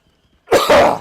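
A single loud, close cough after a moment of near silence, harsh and throaty, fading quickly.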